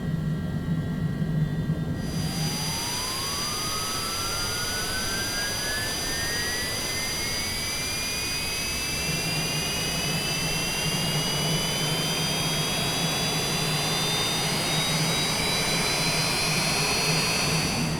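Business jet engine spooling up on the ground, a rising turbine whine climbing steadily in pitch over a dense roar, with a low rumble joining partway through, heard from close by inside the aircraft.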